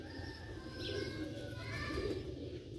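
Low pigeon coos from rooftop pigeons of a Sialkoti breed roll in short repeated phrases against a busy background, with faint chirps and distant children's voices mixed in.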